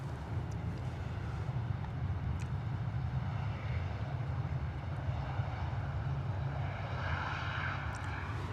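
An Airbus A321neo jet departs London Stansted Airport, its engines a steady, continuous roar with low rumble and some wind buffeting, sustained throughout without speech.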